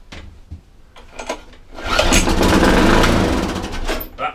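A Briggs and Stratton lawn mower engine is pulled over a few times with sharp tugs, then fires and roars into a loud, steady run that tapers slightly toward the end.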